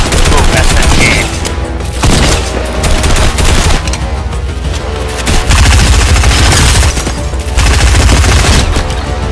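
Rapid bursts of SMG fire crackle through a video game firefight, loud and near, in repeated volleys separated by short pauses.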